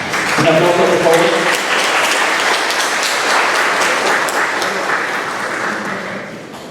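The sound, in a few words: audience applause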